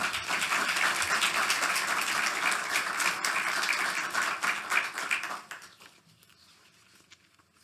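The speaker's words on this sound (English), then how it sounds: "So please give a round of applause for Jim Deering." Lecture hall audience applause welcoming a speaker, dense steady clapping for about five seconds before thinning out and dying to near silence.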